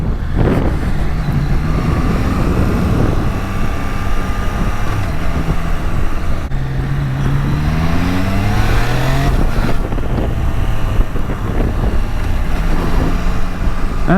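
A 2022 Triumph Trident 660 motorcycle pulls away from a green light, engine rising through gears with quick-shifter changes and short pitch drops, heard loud from the rider's position over steady wind noise.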